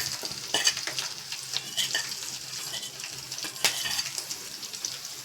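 Green chillies added to lentils and peanuts frying in oil for lemon rice: a steady crackling sizzle broken by repeated scraping and clinking strokes of a spoon stirring in the pan, close and moderately loud, with no talk.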